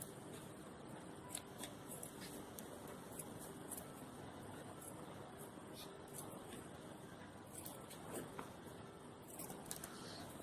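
Scissors cutting through a folded denim jacket sleeve give steady, faint crunching snips close by against a low background hum.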